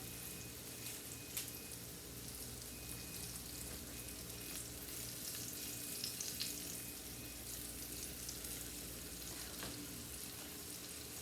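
Homegrown green tomato slices fry in a pan with a soft, steady sizzle and faint crackle, quiet and continuous throughout with occasional light clicks and no speech.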